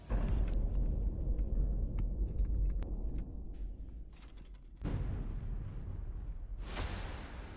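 A small military vehicle fires its weapon, giving loud booming blasts over a continuous rumble of engine and outdoor noise, with a sharp report partway through and another burst near the end.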